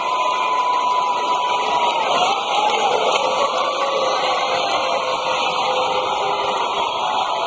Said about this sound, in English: The crowd gets louder here at the County Center.